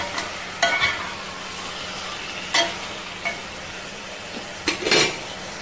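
Tomatoes and curd sauté in a pan for Chettinad chicken curry, giving a soft, quiet sizzle broken by several sharp scrapes and clinks of a spoon against the pan.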